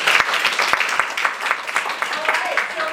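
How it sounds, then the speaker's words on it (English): Audience applause for improv performers, a dense wash of clapping from a live crowd, fairly loud and steady throughout, with a faint voice or whistle showing near the end. "So let's give them a nice round of applause."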